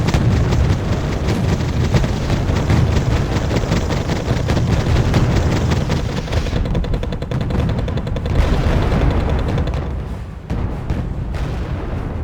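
Dense battlefield combat in the Wargame strategy game as T-72 tanks attack, with continuous rapid gunfire, machine-gun bursts and booming explosions overlapping loudly, the barrage thinning briefly near the end.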